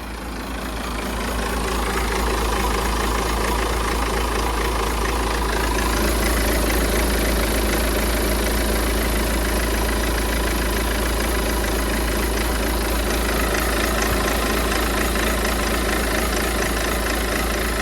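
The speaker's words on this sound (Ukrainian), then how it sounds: "Щось мені не подобається робота двигуна." A Peugeot 508 engine idles steadily for a long stretch, a low continuous rumble with a slightly uneven, rough texture and no voices.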